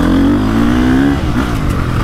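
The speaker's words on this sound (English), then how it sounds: "Just when it starts revving" A loud, close dirt bike engine revs with a rising, buzzing pitch that climbs and then settles, filling the whole short stretch.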